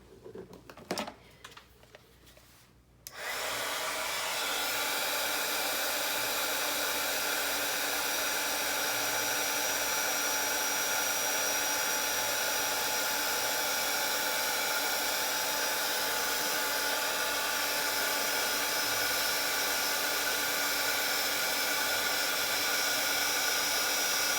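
A heat tool melts Distress Glaze embossing powder on a paper doll craft, its steady whooshing blower starting after a few seconds of light handling noise and running loud and continuous to the end.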